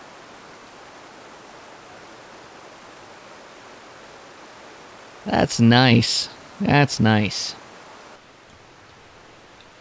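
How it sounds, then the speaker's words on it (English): Mountain stream water flows steadily as a soft, continuous broadband rush off to one side beyond trees, with someone speaking briefly partway through. "The water, you can still hear, it's off to the left, just through those trees over there"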